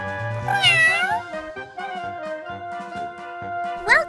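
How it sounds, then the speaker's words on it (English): Synthetic cat meows in a pet-care game, several in a row with bending, sing-song pitches over soft game music; bright and close, ending with a rising mew. "Meow."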